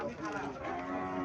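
A Sahiwal bull calf at a cattle market in Comilla, Bangladesh, lets out one loud, drawn-out moo close by, with faint market chatter in the background.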